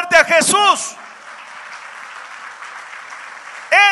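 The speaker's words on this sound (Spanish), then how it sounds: "Dale un aplauso fuerte a Jesús." A church congregation applauds in a sustained wash of clapping between bursts of a preacher's amplified Spanish speech, which is heard at the start and again at the end.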